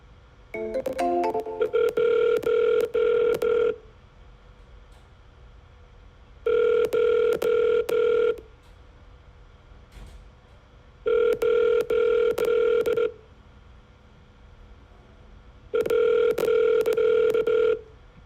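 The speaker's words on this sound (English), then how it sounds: "I'm going to keep dialing a little bit here." Repeated telephone ringback tones during a run of sales cold calls: four long bursts of loud ringing separated by pauses, with brief dialing beeps at the start and no talk.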